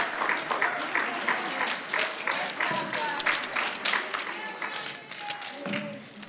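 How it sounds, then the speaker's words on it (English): An audience claps steadily for academic hall of fame honorees at a school ceremony, the applause dense and sustained, with voices speaking over it. "Let's give a round of applause for all of our recipients"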